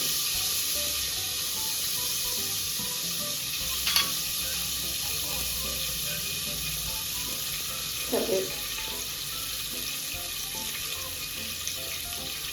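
Mustard seeds spluttering in a generous amount of hot oil, tempering for a mushroom sambar: a continuous close, bright hiss with a few sharper pops standing out, steady in level throughout.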